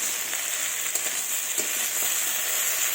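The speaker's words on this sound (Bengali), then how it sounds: "এবার মাছটাও ভালোভাবে নেড়ে নেব একটু।" Small fish frying in a pan with sweet chillies, a steady close sizzle with faint scraping as the pieces are stirred, continuous and fairly loud with no voices.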